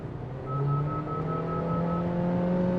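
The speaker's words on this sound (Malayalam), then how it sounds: "ഈ റവിൻ്റെ സൗണ്ട് എനിക്ക് ഇഷ്ടമാണ്" Honda Amaze engine revving up toward its top end, a steady rising drone with a clear tonal whine, close and moderately loud, alone without voices.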